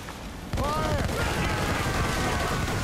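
Ship cannons in Assassin's Creed Rogue open fire in a sudden loud volley, followed by a dense, rumbling fusillade of overlapping shots with faint shouted voices in the mix.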